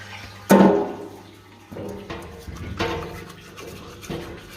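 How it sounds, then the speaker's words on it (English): A parts washer rinses a 1950 Lucas D3A4 distributor part, fluid spraying and splashing in irregular bursts, with a loud gush at the start and then uneven sloshing nearby. "we can bring this over to the parts washer, and we're going to give that a bit of a clean out"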